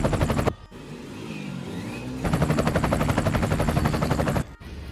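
Cheap RC toy helicopter flying, a loud buzzing motor with rapid rotor chop that cuts out briefly, resumes, then rises in pitch and intensity before stopping.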